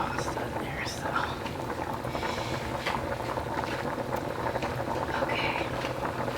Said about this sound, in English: Watch the boiling water evaporate into the nothingness of the oxygen and nitrogen.